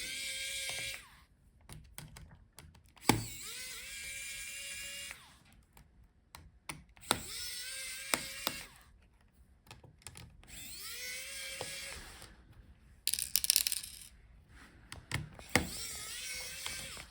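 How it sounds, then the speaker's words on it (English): Small screws being backed out of an HP Pavilion Aero 13 laptop during a teardown: faint, intermittent metallic clicks and scrapes of a screwdriver, with sharper taps of parts being set down, close-up in a quiet room. "Now take out all the screws."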